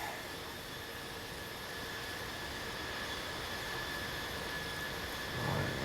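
Steady, continuous airliner engine drone in Infinite Flight Simulator during a cruise from Chicago to St. Louis, a constant broadband roar with a faint whine, unchanging throughout with no talk.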